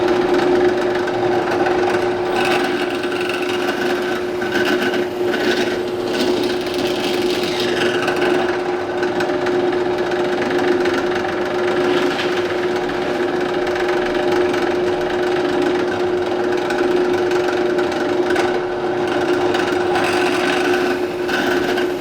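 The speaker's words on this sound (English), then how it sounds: "I will be following it up with a 1/2 inch Forstner bit to create the recess for the head of the bolt." A 1/2 inch Forstner bit boring bolt-head recesses into a moisture-resistant CNC router spoilboard, giving a steady, close drilling whine with a constant hum and gritty cutting texture throughout, without speech.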